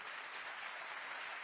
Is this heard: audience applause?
yes